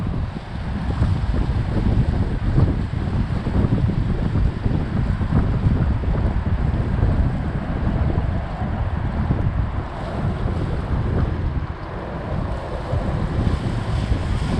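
Strong wind buffets the microphone of a Zino 2 drone camera in very windy weather, a constant loud roaring rumble with uneven gusty surges and no voices.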